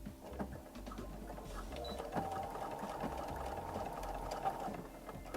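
A home sewing machine stitches a small fabric bunny pocket, its motor humming steadily at close range with a fast mechanical needle rhythm.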